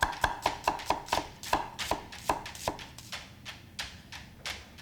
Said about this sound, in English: Next, we're just going to thinly slice some onion.